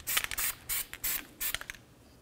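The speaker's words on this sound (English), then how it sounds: "Now we can make our way to the mating surface of the wheel bearing with some anti-seize." Anti-seize sprayed from an aerosol can onto the wheel bearing mating surface of a 2013-2015 Chevrolet Malibu, four quick close hissing bursts in a row, no talk.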